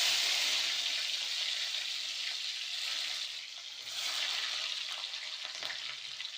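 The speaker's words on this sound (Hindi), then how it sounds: "तो चल अब फोरन ला डाल लेता हूँ।" Garlic, green chilli and dried red chilli tempering crackle and sizzle loudly in hot oil, a dense steady frying hiss that eases slightly partway through, with no talking.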